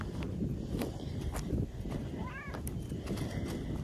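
A cat on a farm gives a short meow midway through, over outdoor rustling and scattered footsteps close by.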